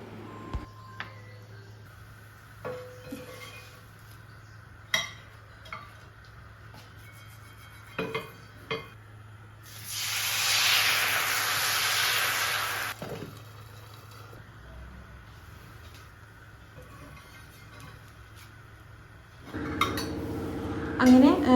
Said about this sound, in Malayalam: ദോശച്ചട്ടി ചൂടായി ദോശ ഓരോന്നായിട്ട് ചുട്ടെടുക്കുകയാണ് കേട്ടോ